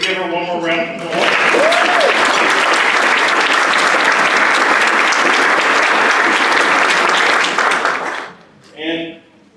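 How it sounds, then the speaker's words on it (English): An audience at a Rotary celebration honoring scholars bursts into loud, sustained applause that runs about seven seconds before stopping abruptly, with brief speech heard just before and just after the clapping. "Can we give her one more round of applause?"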